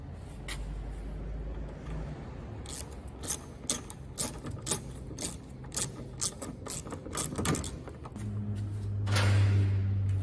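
A rapid series of mechanical clicks and ratcheting snaps as a Peugeot 207 door handle and lock are worked repeatedly, close up, followed by a low hum.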